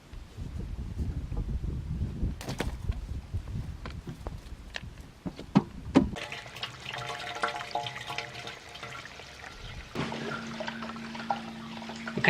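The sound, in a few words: water from a garden hose running into a cistern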